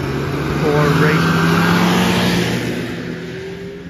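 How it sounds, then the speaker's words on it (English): Snowmobile engines rev at races in Kugluktuk, Nunavut, a rising and falling mechanical whine heard from a short distance that swells then gradually fades, with a person talking over it. "they are having snowmobile races"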